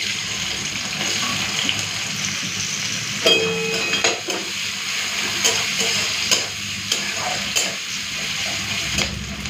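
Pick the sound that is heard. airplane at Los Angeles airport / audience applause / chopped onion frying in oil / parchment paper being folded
chopped onion frying in oil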